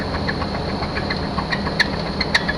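A worn-out Chevrolet Suburban engine idles with a steady, loud mechanical rattle and periodic sharp metallic knocks close by, no voices.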